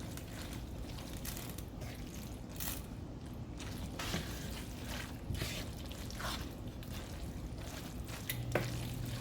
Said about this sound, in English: mix it to the bottom and coat your pasta with the sauce